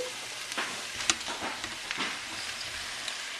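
Beef stew meat sizzling in a hot Dutch oven, a steady, fairly quiet crackling hiss with a few light knocks and scrapes as pieces go into the pan.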